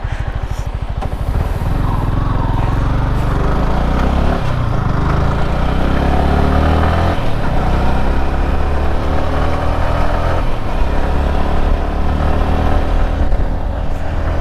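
A loud, steady Royal Enfield Himalayan motorcycle engine rumbles close by throughout, with wind noise over it and no clear rise or fade.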